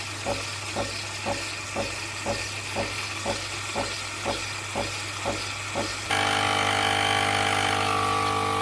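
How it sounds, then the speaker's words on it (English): A capsule coffee machine pumps with evenly spaced rhythmic pulses while making a cappuccino, then shifts into a steady loud hiss and hum, with faint sizzle of shin bones frying underneath. "You can actually hear the shin bones frying as well as the cappuccino maker making this nice cappuccino."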